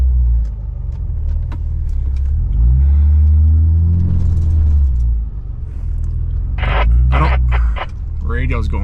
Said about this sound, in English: this upcoming here is one of the good ones. Like, just rattling the tar out of the truck.